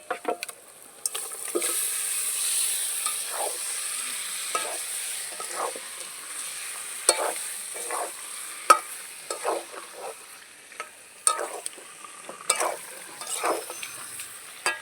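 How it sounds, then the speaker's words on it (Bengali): Marinated chicken frying and being stirred in a spiced masala in a pan, a steady sizzle broken by repeated scraping stir strokes at an uneven rhythm, close and fairly quiet with no talking. "এবারে আমি দিয়ে দেবো মেখে রাখা এই মাংসটা"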